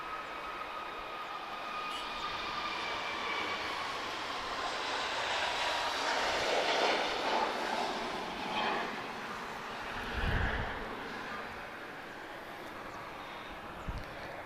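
A TAP Air Portugal airliner at Lisbon Airport gives off a steady broadband jet roar with a whining engine tone, swelling gradually and holding loud throughout, heard from a distance with no one talking.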